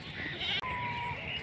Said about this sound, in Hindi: और वो खड़ी है हमारी बकरी